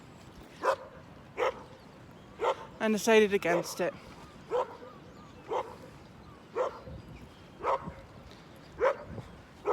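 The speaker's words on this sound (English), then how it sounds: "Dogs." Dogs bark repeatedly in short sharp yaps spread evenly across the stretch, moderately near, with a person talking briefly in the middle.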